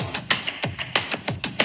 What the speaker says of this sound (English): The groove and the drums kind of sound like this.